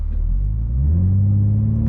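Deep, loud engine rumble from a 2021 BMW G80 M3 Competition holding revs during launch control, a steady low drone that rises slightly in pitch and stays constant, with no voices.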